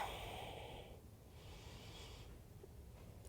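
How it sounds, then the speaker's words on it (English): Slow, deep breaths during a chair yoga stretch, soft airy inhales and exhales swelling and fading in long waves, close and quiet, with no talking. "beginning to take some deep breaths"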